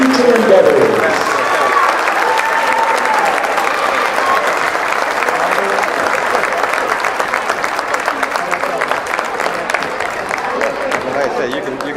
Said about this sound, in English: Please join me in a round of applause as we wish them well in their future endeavors.